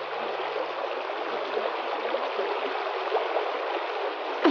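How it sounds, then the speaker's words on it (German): A waterfall's flowing water makes a steady, even rush with soft splashing texture, moderately loud and unbroken throughout. "Wie komme ich durch diesen Wasserfall?"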